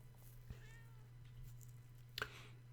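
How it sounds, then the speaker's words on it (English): A cat meows faintly in the background of a Doom mod game session, one short call rising out of a steady low electrical hum, with a brief soft sound earlier on. "Why am I hearing a meow?"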